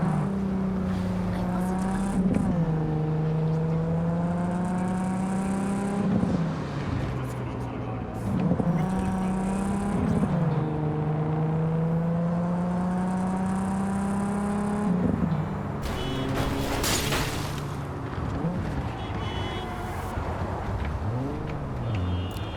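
A car engine in Cyberpunk 2077 drones steadily and climbs in pitch through repeated gear shifts, with a loud crash against a barrier near the end.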